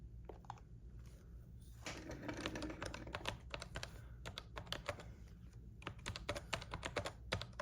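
Typing on the cramped keyboard of an Apple Newton MessagePad 120, a quick irregular run of close, crisp key clicks with short pauses between bursts, no voices.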